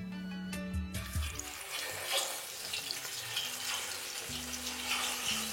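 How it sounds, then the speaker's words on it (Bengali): Katla fish pieces with turmeric frying in mustard oil in a pan, giving a steady, close, crackling sizzle that runs unbroken and without any voices. "তারপর একবার ভালো করে মিশিয়ে নিয়ে দিয়ে দিন এখানে মাছগুলো ভেজে নেওয়ার জন্য।"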